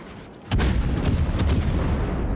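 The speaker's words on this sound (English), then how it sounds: "One last salvo at that battleship" A warship's guns fire a salvo at a battleship in a naval video game, hitting as a sudden heavy boom followed by sustained rumbling blasts and secondary cracks, loud and close.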